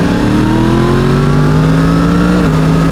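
A Yamaha MT-10 SP sport motorcycle engine revs up loudly and close, its pitch climbing steadily as it accelerates with a harsh buzzing tone.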